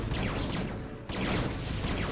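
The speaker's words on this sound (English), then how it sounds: "Yeah, that's a very large blue explosion." A large blue explosion erupts in StarCraft Remastered, a dense, loud roar of blasts and crackling battle noise that briefly drops out near the midpoint before surging back.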